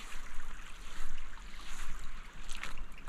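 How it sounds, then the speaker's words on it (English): Small waves lapping gently at a shore on a northern European coast, a soft continuous wash of water with faint wind, steady and fairly quiet with no voices. "I love these little waves and the sound they make."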